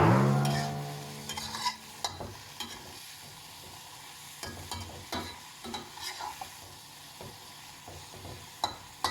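Bean sprouts stir-fried in a pan: a loud hiss fades at the start, then intermittent scraping and tossing over a quiet sizzle, with no voices.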